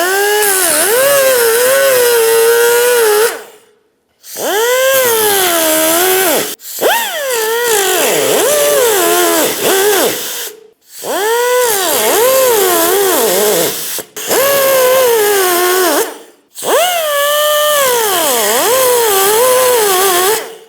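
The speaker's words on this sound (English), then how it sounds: "you can start with a drill or a grinder and just grind the heads off" A loud power grinder whines in long bursts, pitch dipping as it grinds rivet heads off a 2007-2013 Chevrolet Silverado 1500 rear bumper impact absorber, with brief pauses between several passes.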